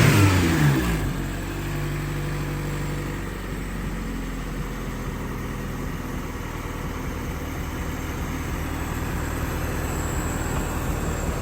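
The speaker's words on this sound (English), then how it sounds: "Give it a rev." A 1991 Honda Civic Si with an HKS dual-tip exhaust gives a quick rev that fades, then holds a steady, droning idle heard close to the exhaust, with no voices.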